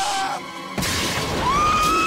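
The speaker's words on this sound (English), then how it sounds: "The horn's gonna drop and break the glass." Glass shatters in The Lost World: Jurassic Park: a sudden sharp crash breaks in partway through after a quieter lead-in, followed by a sustained bright, ringing tone and lingering noise.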